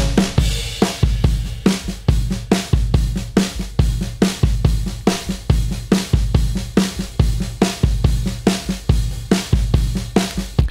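A soloed drum kit in a static mix plays a steady, punchy groove: kick, snare and cymbal hits repeat in a tight, even rhythm, loud and up close with no voices.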